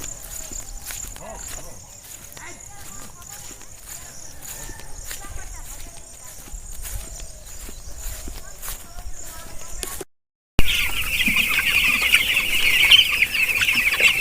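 Ten-day-old poultry chicks on a farm keep up a steady, dense chatter of cheeps and clucks, panting in the heat, before an abrupt cut to a louder, rushing hiss.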